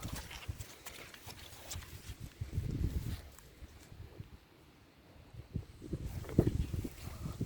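A mare moves nearby, with soft irregular hoof thuds and shuffling in two louder bursts separated by a quieter stretch.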